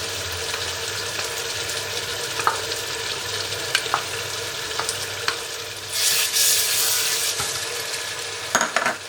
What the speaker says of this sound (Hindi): अब हम इसको भूनेंगे। फिर अदरक भी अभी डालनी है, अदरक भी डाल देंगे।